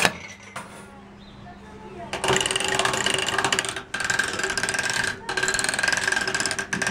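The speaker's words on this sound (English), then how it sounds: "Panning machine, go." A gold panning machine at a mine museum starts up with a rattling, ratcheting mechanical clatter and a steady hum, running loud and continuous with brief dropouts, after a quiet stretch with a short spoken command.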